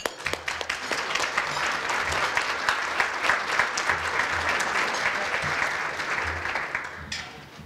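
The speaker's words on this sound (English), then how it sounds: "If everybody could just please give her a round of applause" A civic audience at a village gathering gives a round of applause for the mayor: steady, dense clapping from many hands that fills the room, holding for several seconds and then tapering off at the end.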